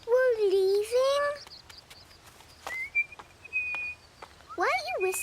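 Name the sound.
person whistling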